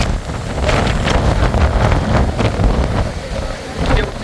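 Strong wind buffeting the microphone on the western mountain slope at Thirumalai Kumarasamy temple, a loud, continuous roaring rush with gusty swells and no voices.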